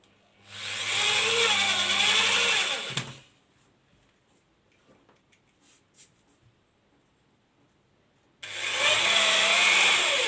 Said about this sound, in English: I'm going to be attaching 4 screws.